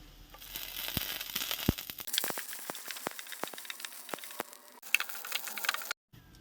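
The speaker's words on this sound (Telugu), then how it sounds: "చూడండి, ఇలా ఫ్రై అవుతున్నప్పుడు దీంట్లోకి కొంచెం కరివేపాకు వేసుకుంటున్నాను." Tomatoes frying in a pan with curry leaves added, giving soft crackling sizzle with scattered sharp pops and clinks of a utensil, close and fairly quiet.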